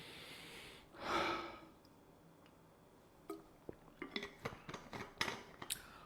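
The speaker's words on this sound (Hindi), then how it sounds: "सभी लोग एक डीप ब्रीथ लेंगे" One deep breath is drawn in and let out during a classroom meditation pause, a single soft, close inhale-exhale swell near the start, followed by faint small clicks and rustles.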